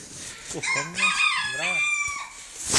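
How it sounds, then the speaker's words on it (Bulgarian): A Chinese rooster crows once, loud and close, in a long rising-and-falling call of about two seconds, followed by a short burst of noise at the end. "Китайски петел"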